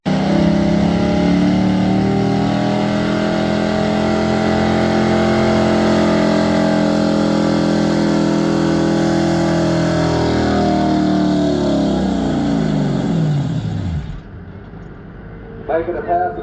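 Loud, sustained roar of a truck or tractor straining through a pass at a 2025 pulling competition in Wyoming, Iowa. The layered engine tone drops in pitch and cuts out near the end, with an announcer's voice over it.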